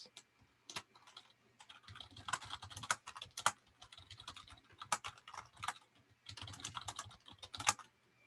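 Rapid computer keyboard typing while a git commit message is written during a coding workshop, steady bursts of clicky keystrokes close by with short pauses in between and no talking.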